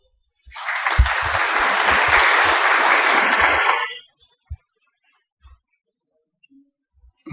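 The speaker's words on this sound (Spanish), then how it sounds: "Un aplauso, por favor." A symposium audience on archives breaks into applause for a presenter, a full burst of clapping that swells, holds for about three seconds and stops abruptly, followed by a few isolated knocks and handling noises in near silence.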